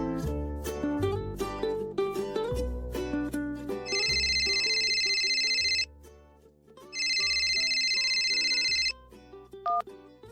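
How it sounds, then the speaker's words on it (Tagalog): A mobile phone rings with an incoming call from an unknown number, sounding two long bursts of bright electronic ringtone over soft background music, with a short pause between them and no speech. "nagulat na lamang ako nang may tumatawag na unknown number sa aking cellphone"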